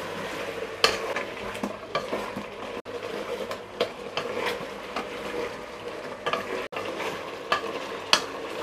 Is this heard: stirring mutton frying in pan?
yes